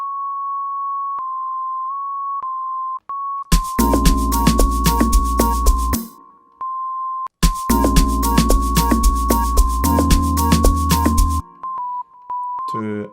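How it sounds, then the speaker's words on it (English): A pure sine-wave synth lead plays a simple melody of steady held notes, first alone and quiet, then over a loud full beat with drums, before returning alone at the end. "now it's time to add a simple top lead"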